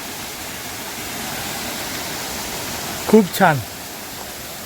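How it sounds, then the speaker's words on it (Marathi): A flowing stream crosses a trek trail near Choravane, Ratnagiri, giving a steady broadband rush of water throughout, close and even, with a brief spoken remark near the end. "हे बघा इथं ओढा लागला आहे आणि ह्या ओढ्याच्या मधून आपला हा ट्रेक चालला आहे."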